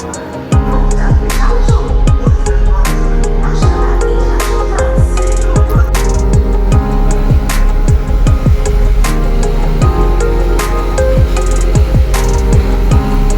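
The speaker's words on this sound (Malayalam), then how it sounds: "ഈ പോണ ട്രെയിൻ ഉണ്ട്. ഇത് വഞ്ചിനാട് എക്സ്പ്രസ് ആണ് കേട്ടോ." Vanchinad Express passenger train rolling past at close range near Tenkasi, a loud steady roar with rhythmic clicks and clunks of wheels over rail joints running throughout, no talking.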